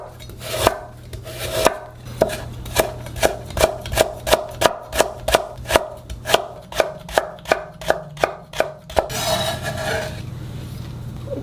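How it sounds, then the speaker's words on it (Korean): A knife chops carrot into thin strips on a cutting board with a quick, even run of about twenty close, sharp knocks, then a short pause and a brief scraping sweep. "당근도 얇게 채 썰어서 조금만 넣을게요."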